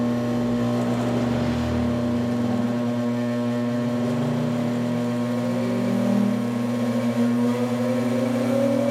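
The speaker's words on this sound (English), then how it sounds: "I'm going to start up the system and bring it up to speed" The RegenX generator system starts and spins up to speed, giving a loud, steady machine drone with a rising whine and sustained hum and no one talking.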